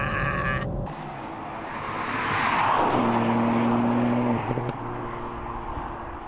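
A 2021 Ford Puma ST engine accelerating in sport mode, a loud rising rev with a gear change, then a steady strained drone, heard close and without talk.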